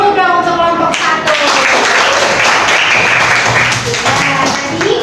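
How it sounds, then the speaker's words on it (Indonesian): A class in an Islamic religious education teacher-training session claps for a student group, a loud, close, continuous burst of hands. Voices are heard at the start and again near the end. "Tepuk tangan dulu dong untuk kelompok 1"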